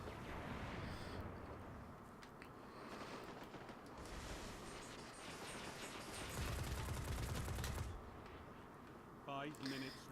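Gunfire from a Monarchy weapon in the Destiny video game, with dense bursts of shots and a louder sustained volley near the end, under continuous game noise and effects.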